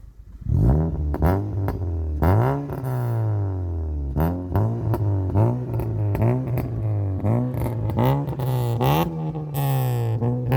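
A third-generation Acura TL revs repeatedly at a 2020 car meet, the engine note rising and falling in close, loud bursts with clattering exhaust pops between pulls.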